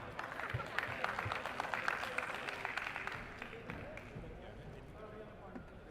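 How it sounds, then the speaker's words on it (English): Audience at a DD Robocon 2024 national round clapping for a robotics team, a sustained dense wash of applause with scattered louder claps, fading slightly toward the end, with some background voices. "Clap for them, please."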